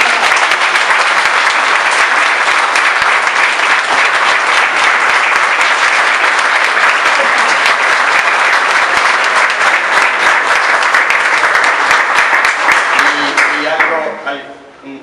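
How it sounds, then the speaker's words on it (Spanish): A room full of people at a sculptors' day ceremony in a museum hall gives sustained, loud applause that carries for over ten seconds before tapering off, and a voice resumes at the close. "Pido un aplauso para él."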